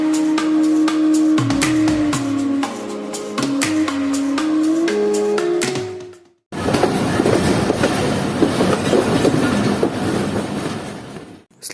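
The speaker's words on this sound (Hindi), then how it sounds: "ये सामने से आ रही है ग्रीन लाइन एक्सप्रेस 5 अप" The Green Line Express, hauled by locomotive 4558 on a single-line track in Pakistan, passes close by with a rhythmic clickety-clack of wheels and tonal squeal, then a brief gap before a loud continuous rolling rumble.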